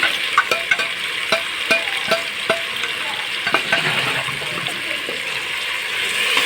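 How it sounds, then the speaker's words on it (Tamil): Ginger garlic paste sautéing in a pan for a coconut milk vegetable biryani: a steady close sizzle with repeated sharp spatula scrapes and clicks against the pan, no voices. "நம்ம இஞ்சி பூண்டு விழுது போட்டாச்சு போட்டு நல்லா பச்சை வாசனை போகிற வரைக்கும் வதக்கி விட்டுடலாம்"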